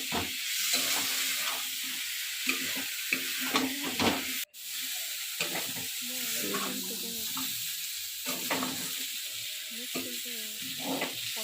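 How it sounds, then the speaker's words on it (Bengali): Cauliflower and potato with spices sizzle and hiss steadily in a hot pan while being stirred, with scraping clinks now and then and a brief break partway through. "মশলাটা কষে এখন ওই ফুলকপি আলু ভাজিটা দিয়ে দেবো। দিয়ে ভালো করে কষে নিয়ে"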